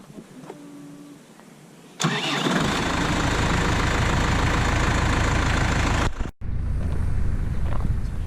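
A farm tractor's engine cranks and fires at once, then settles into a loud, steady diesel idle heard close up, briefly dipping for a moment before the rumble carries on.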